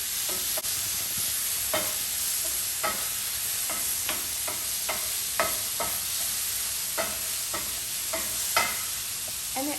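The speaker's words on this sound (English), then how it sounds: "you can hear that delicious sizzle. So now we're going to stir it up really well, just to cook those vegetables." Vegetables frying in a pan over medium heat, with a steady close sizzle punctuated by irregular scraping knocks of a utensil stirring them, and no voices.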